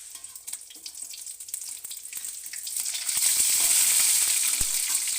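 Chicken pieces sizzle and crackle steadily in hot oil, the frying growing louder and denser toward the end as they are turned, with a few clicks and bumps from the utensil.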